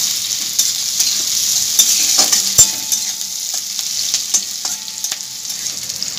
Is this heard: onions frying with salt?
yes